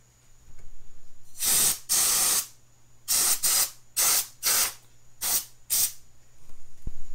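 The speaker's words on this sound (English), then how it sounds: "Now I'm going to go ahead and get my little can of air and just kind of blow some air in there, get any kind of debris out." A can of compressed air blows debris out of an engine area during a camshaft position actuator replacement, giving about eight sharp hissing spray bursts in quick succession, close and loud, with no talking.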